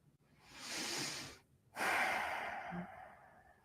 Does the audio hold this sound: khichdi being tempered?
no